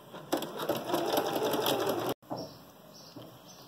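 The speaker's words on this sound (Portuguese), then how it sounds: "E vamos passar novamente uma costura toda até do lado de cá." A sewing machine stitches a seam along the edge of a fabric 3D face mask. Its rapid, close, steady needle chatter runs for about two seconds, cuts off abruptly, and is followed by quieter fabric handling.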